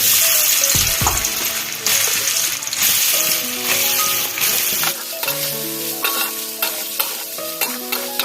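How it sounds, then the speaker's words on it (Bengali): Soybean chunks frying in white oil in a kadai, with a steady close sizzle and repeated scraping stirs and utensil taps throughout. "এটা আমি সাদা তেল দিয়ে দেবো, আর আমি সয়াবিনগুলো ছিঁড়ে দেবো, হালকা করে ভেজে নেব"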